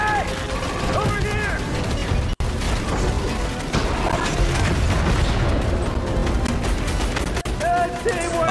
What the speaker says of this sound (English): I've been shooting Jonesy the entire time